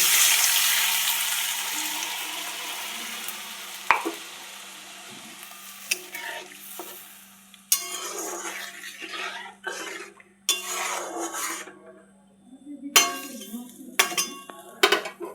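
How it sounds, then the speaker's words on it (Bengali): A pan of onion and almond paste thinned with water bubbles and simmers softly, with a spoon stirring and clinking against the pan in scattered bursts. "5 মিনিট ভালো করে ফুটিয়ে নিলাম পেঁয়াজ আর বাদামের পেস্টটা।"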